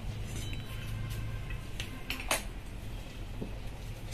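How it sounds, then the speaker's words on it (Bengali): A kadai wok set onto a home stove while making singara gives a few light metallic clinks and knocks, faint against a low steady background hum. "কড়াটা বসিয়ে দেব"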